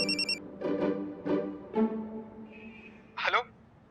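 A mobile phone rings in an indoor scene, a short electronic ring followed by several repeated tonal chirps and a final bright burst, fairly close and moderately loud without speech.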